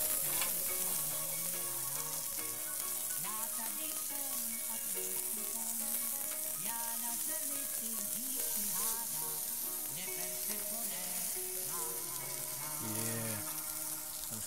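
Onions and meatballs sizzling on a grill, a steady close crackling hiss throughout, with a faint tonal hum running underneath.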